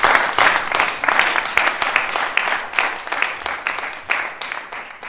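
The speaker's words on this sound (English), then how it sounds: "How about one more round of applause for inspiring" An audience at a University of Chicago roundtable discussion applauds after a performance, a loud, close round of clapping with rhythmic pulses running steadily throughout.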